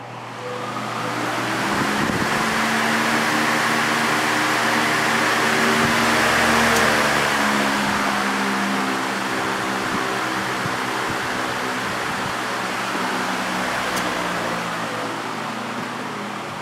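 Lakewood HV18 CCB industrial commercial box fan from 1998, Macmillan 2.4 amp motor, running on high: a steady, loud whooshing airflow with a low motor hum, constant throughout.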